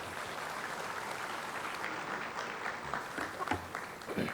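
A convocation audience at IIT Bombay claps for graduating students, steady broadband applause filling the hall at moderate level throughout, with a few louder individual claps near the end.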